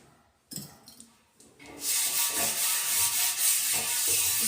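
Steady rough scrubbing of used clay Diwali oil lamps, a continuous close abrasive rasp after a few brief knocks, with no talk.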